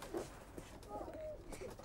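Soft cooing and fluttering from a grandad's pigeons near their loft, heard beneath children's and adult voices talking throughout.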